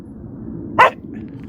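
A single short dog bark rings out far off across open desert scrub, a brief sharp burst over a steady low wind-like background rumble, with no voices.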